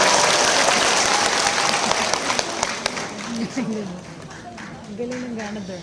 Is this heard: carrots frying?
no